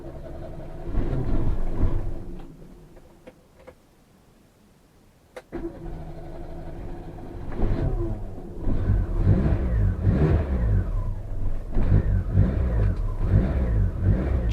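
A Dacia 1300 barn find cranks and catches, its engine sputtering to life after a pause, then revving repeatedly with rising and falling loud mechanical roar up close.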